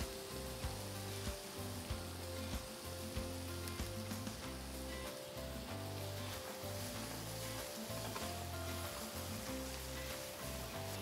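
Onions fry in a pan for a cauliflower pepper fry, sizzling softly and continuously, with faint irregular crackles and spits and no voices.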